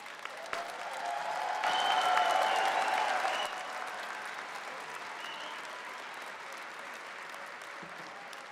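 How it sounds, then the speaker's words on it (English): An audience at a spring college convocation claps for graduates of a school of energy, the applause swelling over the first few seconds, then easing into a softer, thinner patter that fades away in a large hall. "How about a round of applause for all the graduates from the MacPhail School of Energy?"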